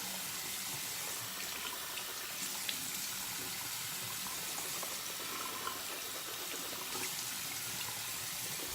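Tap water runs steadily into a shaving lather bowl during a wet shave, a continuous close hiss and splash with no talking over it.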